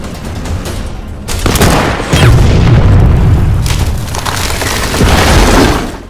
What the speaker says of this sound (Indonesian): Igora pun menggunakan senapan Scud untuk menembak mortir